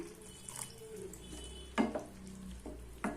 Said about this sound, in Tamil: இதில் நான் ஒரு அரை கப் அளவுக்கு தண்ணி ஊற்றிக்கிறேன்